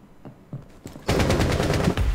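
Automatic gunfire in the tactical shooter Rainbow Six Siege: a few sparse single shots and impacts, then a sudden loud, rapid sustained burst of close, rhythmic shots.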